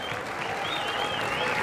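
A crowd applauds at a bull-riding rodeo festival in San Mateo Xalpa, a short burst of dense, steady clapping with a faint tone over it.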